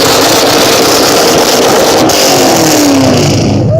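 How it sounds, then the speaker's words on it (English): Ford Mustang with a custom exhaust revving hard at a 2015 import-versus-domestic car show exhaust battle, a loud sustained roar rising in pitch, close up with crowd noise around it. "Are you guys ready for the exhaust battle?"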